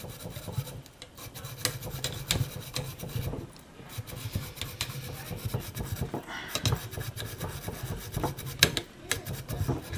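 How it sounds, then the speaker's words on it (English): A brush scrubs carbon off an AR-15 rifle part in quick back-and-forth rasping strokes, close and continuous with small pauses, and no one speaks. "But I'm just scrubbing carbon off."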